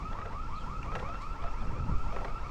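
Security fence alarm at the Treasury near the White House, a repeating electronic warble that sweeps up and down, heard from a distance over rain and street rumble.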